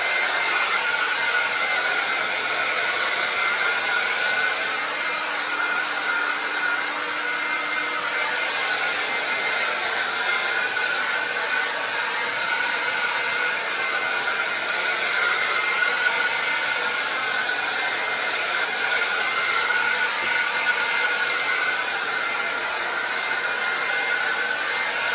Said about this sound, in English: luckily, I already have that plugged in, so y'all don't have to wait around for me to try to find my blow dryer